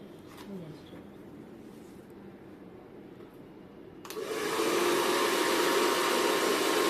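A hair dryer blow-drying hair straight with a round brush switches to a loud, steady roar partway through, following a quieter stretch of low background noise.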